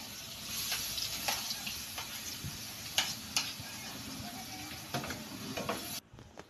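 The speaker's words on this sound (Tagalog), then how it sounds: "Pag mainit na yung mantika, lagay na natin yung bawang." Garlic hits hot oil for homemade chili garlic oil and sizzles steadily, with scattered crackles and spoon-stirring clicks through the frying, before an abrupt stop near the end.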